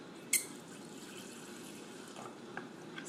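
Lemon juice pours in a steady liquid stream into a homemade salad dressing, with a sharp clink near the start and a few faint drips and taps. No one speaks.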